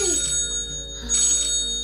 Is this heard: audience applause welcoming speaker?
no